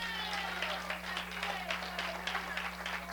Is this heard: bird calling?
no